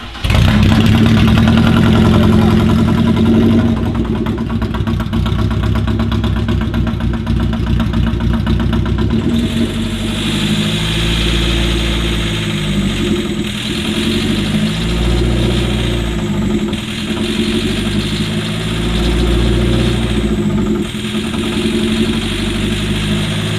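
Engine idling during a workshop test, starting with a higher loud droning run and then settling into a lower, steady, pulsing idle that continues close and loud throughout.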